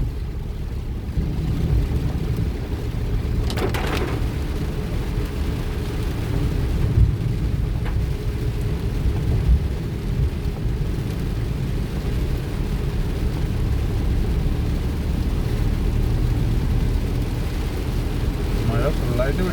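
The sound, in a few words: heavy rain during a car drive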